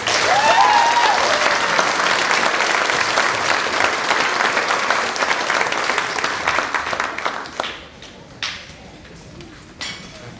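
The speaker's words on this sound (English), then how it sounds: "Please give her a round of applause." A school concert crowd applauds loudly and steadily, the clapping thinning out and fading to a few scattered claps near the end.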